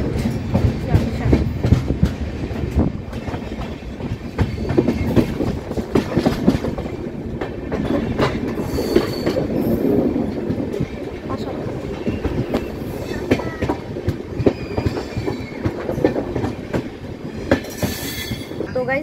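Rumble and rattle inside a 3rd AC coach of the Kolkata–Jammu Tawi Express, steady loud rolling with clickety-clack, occasional wheel squeals and metallic clanks throughout.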